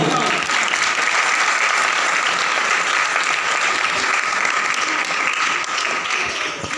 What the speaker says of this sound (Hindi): खुदावंद यीशु वास्ते थोड़ा जोर नाल ताली बजाओ।